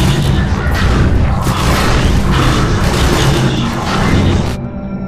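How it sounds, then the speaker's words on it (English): Continuous booming explosions and roaring blasts fill the scene in Half-Life 2 Episode 1, loud and dense for several seconds before cutting off abruptly. "Wow, everything's just exploding."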